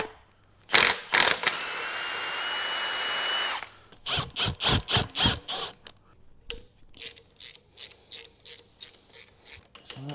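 A hand ratchet clicks in quick bursts as bolts come off a Toyota Soarer V8 car engine, with a long grinding turn followed by repeated short ratcheting strokes, close up.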